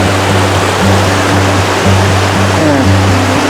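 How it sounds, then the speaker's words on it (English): A mountain creek in the Pecos Wilderness runs full with snowmelt, a loud, dense, continuous rush of water heard close by with no breaks, mixed with some steady low tonal sounds. "The creek's running full"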